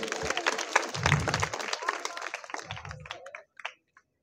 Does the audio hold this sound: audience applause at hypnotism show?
yes